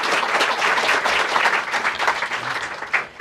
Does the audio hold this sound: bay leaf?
no